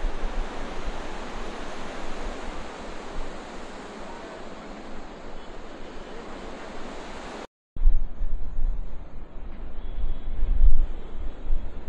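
Strong water current rushing over the Mohonpur rubber dam, a loud, dense roar of churning water with wind buffeting the microphone, steady for several seconds, then briefly cut and resuming slightly rougher.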